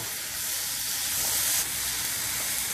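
Onion and tomato sauté in hot oil for a mutton roast, giving a steady, bright sizzle and hiss that swells slightly midway, close and uninterrupted, with no talking.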